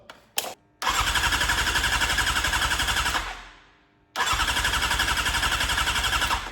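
Suzuki Bandit 650 engine cranking without catching: a couple of short starter bursts, then two long loud bursts of rapid rhythmic starter churning separated by a pause, the first winding down as it fades, no voices.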